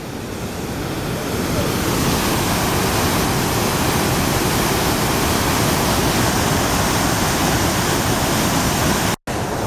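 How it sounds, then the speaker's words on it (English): Fast-flowing water at Tahquamenon Falls rushes in a loud, steady roar close by, a dense continuous wash that cuts out abruptly for a split second near the end. "look how fast the water is flowing right here"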